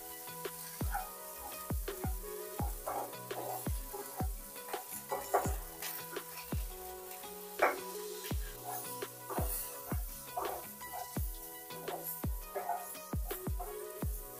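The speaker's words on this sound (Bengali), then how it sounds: "সব সবজিগুলো হাই ফ্লেমে 2 মিনিট সাথে করে নিয়েছি।" Boiled vegetables sauté in a pan over a high gas flame for a grilled chicken dish, sizzling steadily throughout with a regular run of scraping stirs and knocks of the spatula against the pan, close and fairly loud, with no talking.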